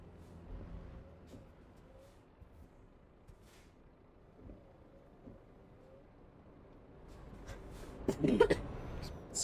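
A few soft, muffled coughs from a man with a lingering cold, faint under the quiet rumble of a truck cab in Euro Truck Simulator, ending in a louder cluster of coughing and throat sounds.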